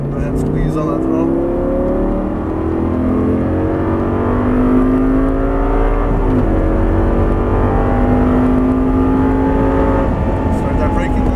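An Audi R8 accelerates hard on a racetrack, its engine note rising steadily in pitch under throttle with a continuous loud roar and a brief dip around a gear change, and people talk over it.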